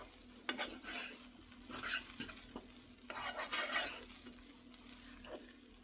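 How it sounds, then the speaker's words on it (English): Cooked Mediterranean couscous being fluffed in a pot, soft scraping and clinking of a utensil against the metal in uneven bursts over a faint background hum. "Now we fluff the rice just a little bit more as it gets all nice and cooked and mixed together."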